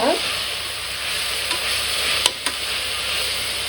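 Tomatoes sauté in a pan for chicken biryani, a loud, continuous sizzle with a few light stirring clicks, no voices.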